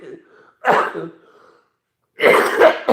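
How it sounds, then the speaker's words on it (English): Two harsh, close coughing bursts, the second longer and more forceful, separated by a brief silence. "I'm like coughing off this blood."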